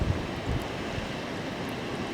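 Strong Storm Ciara wind gusts of 90 to 100 km/h with rain in Amboise, a continuous roaring rush with buffeting on the microphone, no voices.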